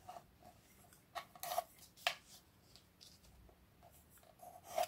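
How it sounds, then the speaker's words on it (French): A pencil traces lines across paper while an advent calendar of tea sachets is being made, giving soft, scratchy strokes that come in short, uneven bursts, faint and close with no talking. "avec votre crayon, vous n'avez plus qu'à tracer"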